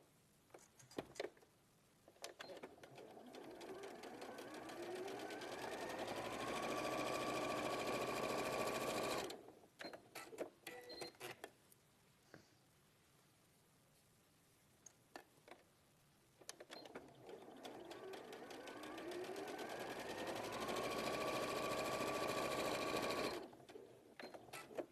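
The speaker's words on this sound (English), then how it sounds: "Then right side together, just only sew here and then here." Domestic sewing machine stitching the seams of a pair of trousers, two long whirring runs that climb to a fast steady hum and then stop, with brief clicks and handling noises between them.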